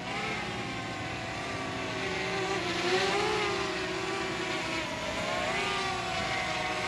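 A DJI Mavic Mini drone flying in close for a hand catch, its propellers giving a steady, fairly quiet high buzzing whine that wavers slightly in pitch as it approaches, with no talking.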